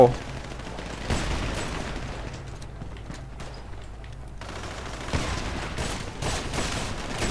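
Gunfire in GTA V on a FiveM server: rapid, rattling bursts of shots with a sharp opening crack, then scattered volleys and a renewed flurry near the end, loud and close.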